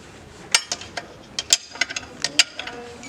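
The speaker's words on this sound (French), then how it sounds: "un bon resserrage de boulon, c'est fondamental" Quick metallic clicks of a ratchet tightening a bolt, a short irregular run of about a dozen crisp ticks close by over faint background hiss.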